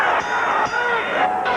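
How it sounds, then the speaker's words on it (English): A spirited, enthusiastic crowd roars at an IBF junior lightweight championship boxing match in Atlantic City, a loud continuous mass of cheering and shouting that swells and dips throughout. "a spirited and very enthusiastic crowd here in Atlantic City"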